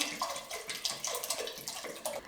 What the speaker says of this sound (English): now I'm adding 2 liters of water